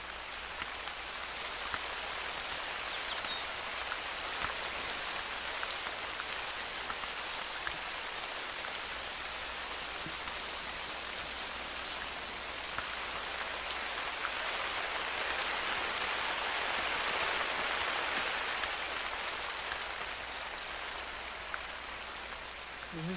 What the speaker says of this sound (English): There's just no way they can hear me in the rain.